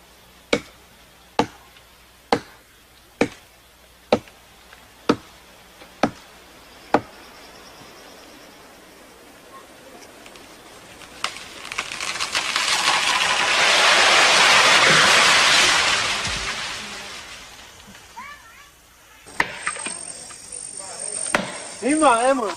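Steel axe chopping wood in an Amazon rainforest setting: eight sharp, evenly spaced strikes ring out up close, followed by a long swelling hiss of insect or forest noise and later faint voices.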